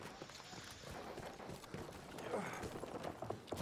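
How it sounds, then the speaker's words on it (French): Horse hooves clip-clopping as a horse approaches in the first-world-war shooter game Battlefield 1, a busy rhythmic patter under dense battle noise and background rumble. "y'a un cheval qui arrive"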